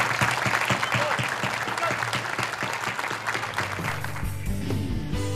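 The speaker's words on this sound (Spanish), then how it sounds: "Un aplauso en reconocimiento a Bochito" An audience applauds steadily in honour of a deceased university artist at a university Children's Day celebration, a dense, even clapping that tapers off in the last second.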